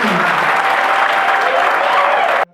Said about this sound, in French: Applaudissez pour le futur marié.